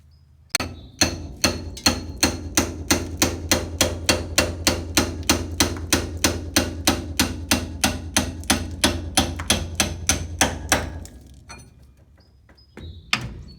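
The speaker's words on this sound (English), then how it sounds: "So I got my biggest Harbor Freight ball peen hammer." A large ball peen hammer pounds a steel tie rod separator on a 1947 GMC axle, about thirty sharp metallic blows in a steady rhythm, close and loud, before a pause and one final strike.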